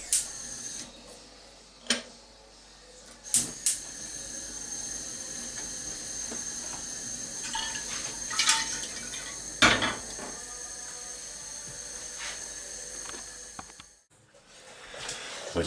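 A pot of liquid for a home-brew yeast test simmering on a cooker, a low continuous bubbling hiss with scattered clanks and clicks of pots and utensils, close and fairly quiet.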